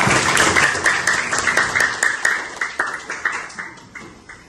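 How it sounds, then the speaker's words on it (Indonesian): A classroom group claps during a teaching-practice lesson, a dense patter of hand claps that gradually thins into separate, steady slaps toward the end. "tepuk tangan dong buat kita semua"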